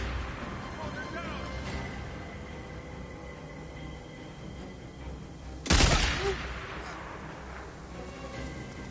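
Gunfire in the Days Gone video game: a single loud, sharp shot bursts out near the middle, ringing briefly over a steady rumbling game background with speech-like sound throughout.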